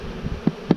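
Honeybees buzzing close by as a swarm is moved from a nuc into a full hive box, a low droning hum with two short louder pulses near the end.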